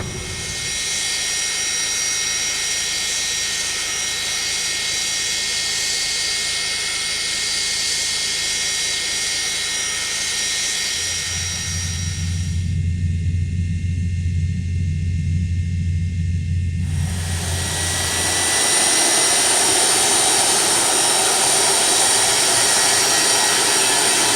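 An MD-80 jet engine runs with a loud steady whine and roar in X-Plane, briefly dropping to a deep rumble mid-way before the high whine returns and builds, with no talking.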